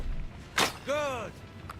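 In the video game Kingdom Come: Deliverance 2, an arrow strikes its target with a single sharp, close thwack, followed by a brief voiced cry.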